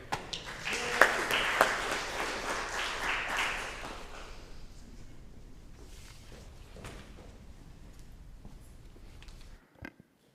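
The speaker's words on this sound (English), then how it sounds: "Give him a round of applause, everybody" A congregation at a Remembrance Sunday gathering applauds, a brief burst of many hands clapping that dies away after about four seconds into quiet room sounds with a few scattered knocks and shuffles.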